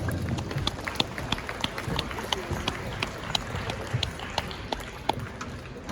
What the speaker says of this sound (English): let's give all these young exhibitors a round of applause